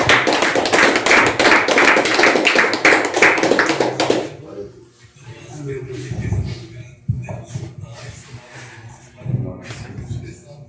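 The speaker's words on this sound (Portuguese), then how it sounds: "Vamos receber o homem de Deus com as palmas bem fortes para Jesus." Church congregation in a rural chapel applauding loudly, dense rapid clapping for about four seconds that then cuts off, followed by quieter room sounds and a few scattered thumps and murmurs.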